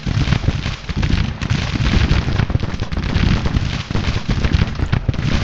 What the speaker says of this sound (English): We're actually going to tell this unit to shoot their artillery.